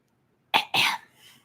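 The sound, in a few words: throat clearing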